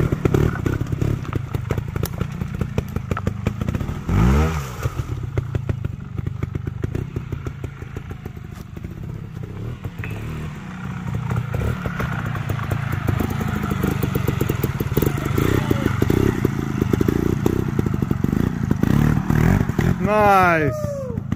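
A motorcycle engine drones and revs steadily close by as the bike climbs and crosses an A-frame obstacle on a trail ride, with throttle surges, a thump and clatter, and people talking over it.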